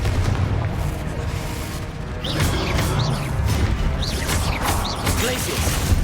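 Confringo fire spell blasting enemies in Hogwarts Legacy, a run of booming impacts and crackling bursts with whooshing magical sweeps, loud and close, layered over combat clatter while a player talks.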